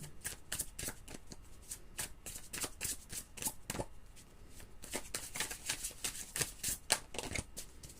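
A deck of oracle cards is shuffled by hand, giving quick rapid riffling bursts and soft papery flicks that repeat irregularly at close range and moderate loudness.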